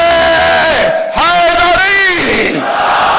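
An audience at a religious gathering chants the slogan response "Haidari" with raised hands, loud, drawn-out voices rising and falling together in a forceful call, close and dominant throughout.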